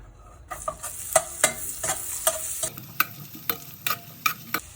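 Garlic with black cardamom and other whole spices sautés in a pan, a soft steady sizzle broken by repeated scraping stirs, close and without speech.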